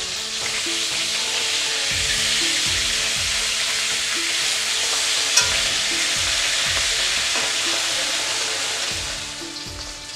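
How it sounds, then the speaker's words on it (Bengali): Pomfret fish are turned over while frying in a wok, with a steady, loud sizzle of hot oil and regular low knocks and scrapes from handling, plus one sharp click partway through. "এবার মাছগুলো উল্টে দিচ্ছি"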